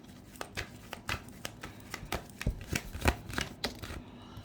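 Tarot cards handled and drawn, a series of soft, crisp card snaps and flicks in an uneven rhythm, close and quiet against a still room, with no talking.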